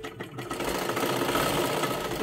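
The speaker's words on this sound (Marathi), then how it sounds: "अशा पद्धतीने आपल्याला शिलाई करत करत घ्यायचं आहे" A sewing machine stitches dress and salwar fabric, its needle running in a rapid, steady mechanical chatter after a short quieter start, loud and close with no talk.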